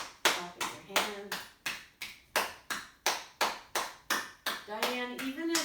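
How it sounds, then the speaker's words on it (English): Sharp, regular hand claps sound during a gentle healing yoga exercise, about a dozen evenly spaced, while a soft voice speaks between and over them. "coming all the way down, clapping your hand"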